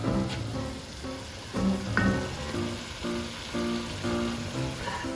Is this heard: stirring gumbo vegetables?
yes